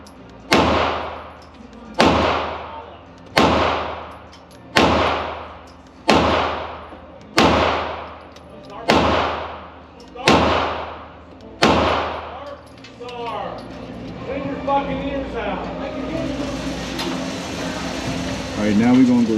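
Sig Sauer M17 pistol fired at a target from 5 yards, a run of loud sharp shots spaced about a second and a half apart, followed by talking over background noise.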